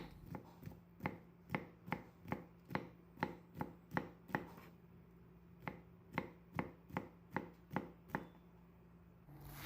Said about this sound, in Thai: นำถั่วฝักยาวมาซอยบาง ๆ